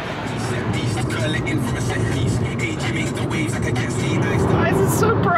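Steady interior road noise from a car driving toward Cardiff, with a continuous low rumble and broadband hiss that stay level throughout, and faint talk mixed in underneath.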